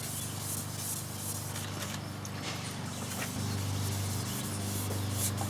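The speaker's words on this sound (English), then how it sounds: "The important part is that I get this area sanded thoroughly and deglossed." Close, steady scratchy rubbing of hand sandpaper scuffs a car body panel to degloss it before painting, with a low background hum running underneath.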